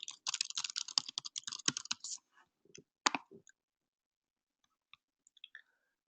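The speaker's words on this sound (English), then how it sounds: "I'm going to type something random" Fast bursts of keystrokes on a computer keyboard, close and crisp, typing a password for about two seconds, then a few isolated taps and clicks trailing off into quiet.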